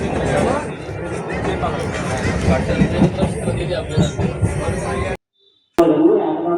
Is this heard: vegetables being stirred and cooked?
no